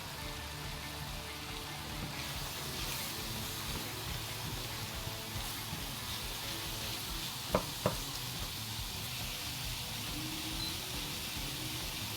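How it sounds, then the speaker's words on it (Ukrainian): Soft steady sizzling of onion and garlic frying in butter in a pan, with two brief sharp clicks of a utensil near the middle, no talking. "Додаємо шматочок вершкового масла і одразу цибулю і чесник. Гарно перемішуємо."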